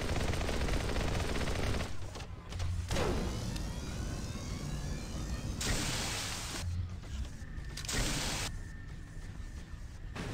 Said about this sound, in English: Oh no, not laser guns.